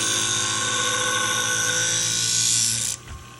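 Kobalt utility scissors blade held against a motorized Twice As Sharp sharpener, a close, steady high grinding whine that runs for about three seconds and then cuts off abruptly.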